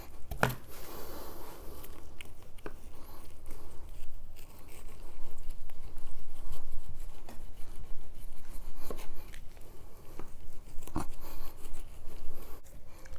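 Knife cutting the chine bone off raw pork spare ribs, soft close scraping and crunching with occasional sharper cracks, continuous and fairly quiet.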